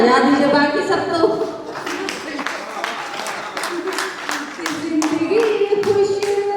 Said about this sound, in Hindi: बस आप तालियां बजा दीजिए